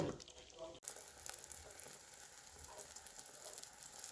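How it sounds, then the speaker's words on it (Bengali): Eggplant slices fry in oil with a soft, continuous sizzle and crackle, faint and close, after a brief clicking noise at the start. "বেগুন ভাজা বসিয়েছি"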